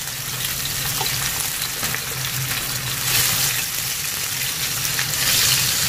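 Meat and yakisoba ingredients stir-fry in a pan with a spoonful of added oil, producing a loud, continuous hissing sizzle that swells slightly as the food is tossed.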